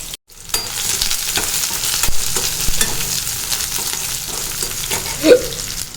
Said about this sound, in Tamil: கொஞ்சமாக சின்ன வெங்காயம் சேர்த்துக்கலாம் நல்லா வதங்கட்டும்